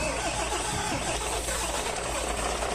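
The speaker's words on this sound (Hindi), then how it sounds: "फाइनली मेरा गाड़ी स्टार्ट हो गया" A truck's diesel engine cranking and catching after an ECM fault, a dense, loud mechanical clatter settling into a steady running rumble, close by and continuous.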